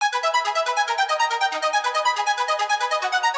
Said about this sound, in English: I added another synth which sounds like this.